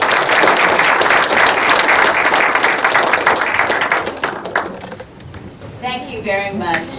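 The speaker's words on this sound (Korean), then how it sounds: "큰 박수로 좀 환영해 주시기 바랍니다" Warm, loud audience applause welcoming a disability rights advocate to a public lecture, dense clapping for about five seconds that fades as a voice begins speaking.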